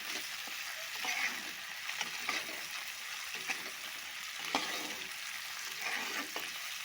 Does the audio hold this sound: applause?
no